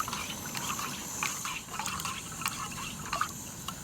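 Mexican street corn soup broth is stirred in a metal canteen cup, giving soft liquid sloshing with small scattered clinks and drips over a faint steady background, close and quiet.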